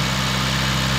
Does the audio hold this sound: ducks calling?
no